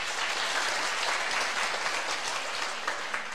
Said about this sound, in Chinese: 鼓掌哦。